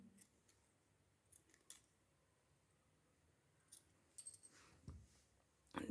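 Scissors snipping off excess crochet yarn while a small dress is being made, a few quiet crisp cuts near the end after mostly silence.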